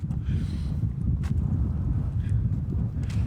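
Strong outdoor wind buffets the microphone near the Great Pyramid of Giza in Egypt, a steady loud low rumble that fills the whole stretch without pause.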